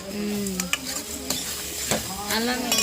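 Gongura chicken curry is stirred in a hot pan: a close, steady sizzle with repeated scraping strokes of the ladle, and a faint voice in the background.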